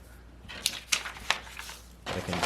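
Scissors snip through a paper sewing pattern for a raglan sleeve: three crisp, separate cuts a moment apart, then a steadier rustling scrape of paper at the end, fairly close.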